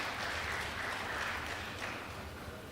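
Brief audience applause at a digital summit and hackathon grand finale, a dense steady patter of clapping that holds at an even level for a few seconds before easing slightly.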